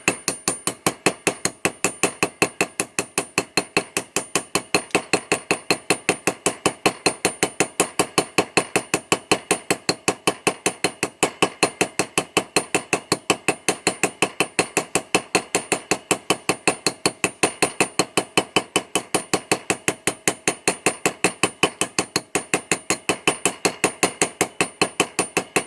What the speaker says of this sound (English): So I'm just going to pin it on this little tiny anvil.